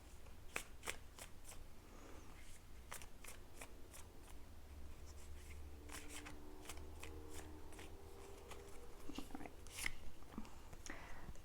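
Tarot cards being shuffled and drawn for a pick-a-card reading, with a run of crisp, quick riffling snaps and soft slides near and fairly quiet, broken by brief pauses.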